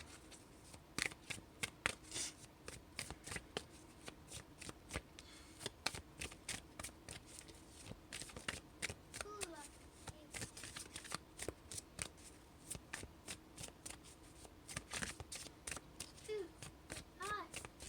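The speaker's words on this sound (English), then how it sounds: "I want to pull one more. Can I get one more shadow card for the karmic, please?" Shadow cards being shuffled by hand for a card reading, with repeated close, soft riffling bursts throughout and faint talk at times.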